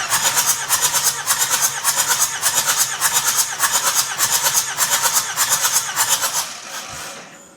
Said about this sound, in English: we'll crank it over and see what compression is now